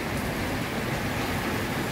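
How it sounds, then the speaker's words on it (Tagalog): Heavy rain falls at night in a loud, dense, unbroken hiss that fills the whole stretch with no voices. "Ang lakas ng ulan."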